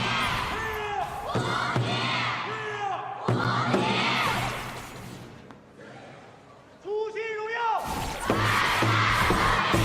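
Large esports arena crowd at a Honor of Kings knockout-stage match roars and chants in loud rhythmic surges, dipping briefly mid-clip before swelling back to full volume.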